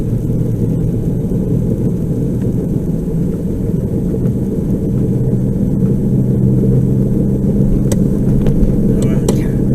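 A car engine idles steadily while warming up, a continuous low rumble filling the whole stretch, with a few faint clicks near the end.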